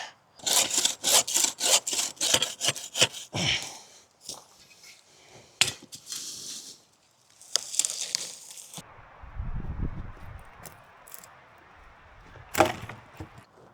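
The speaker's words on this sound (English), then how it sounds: "this is probably the last piece I'm gonna saw on video" A hand saw rasps through wood outdoors on a cliff in quick rhythmic strokes, then pauses, followed by scattered scraping and a few more short cuts.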